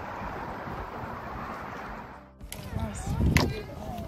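Wind gusts across an outdoor disc golf course with a steady, rushing roar for about two seconds. It drops briefly, then returns more unevenly as people talk nearby.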